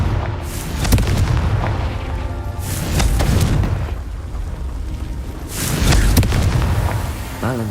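Confringo blasting spells go off in the Hogwarts Legacy video game as three loud, rolling booms spaced a few seconds apart. Crackling bursts sit over a constant low rumble of game sound.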